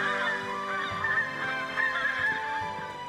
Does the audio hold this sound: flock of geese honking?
yes